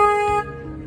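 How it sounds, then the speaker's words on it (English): A tour boat on the San Antonio River sounds its horn once, a loud, close, steady tonal blast of under half a second, followed by a quieter hum of the boat. "Just in case of any cross traffic here, I have to honk the horn."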